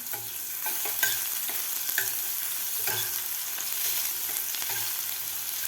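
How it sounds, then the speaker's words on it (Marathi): Coarsely pounded garlic cloves, six or seven, sautéing in hot oil in a pan for shengole, a continuous moderate sizzle with a spatula stirring and scraping about once a second, no voices. "लसूणसुद्धा व्यवस्थित एक मिनिटभर आपल्याला परतून घ्यायचं आहे थोडासा गोल्डन कलर होईपर्यंत"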